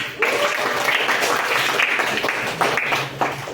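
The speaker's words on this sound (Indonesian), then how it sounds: "Aplaus buat Najwa." A classroom group applauds a student during a micro-teaching lesson, with loud, dense clapping that rises sharply and carries steadily for several seconds before tapering, no voices over it.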